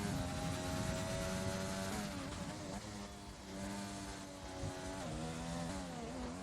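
A race car engine in a racing game whines loudly and steadily, its pitch stepping down as it engine-brakes into a turn, then sliding up and down again with gear changes, with no talking over it.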